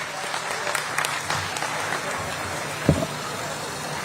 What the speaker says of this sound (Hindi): आपकी जोरदार तालियों के बीच